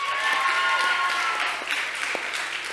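A chapel crowd at a middle school awards ceremony claps steadily for student award winners, a full continuous round of applause holding at an even loudness with a faint whistle-like tone early on.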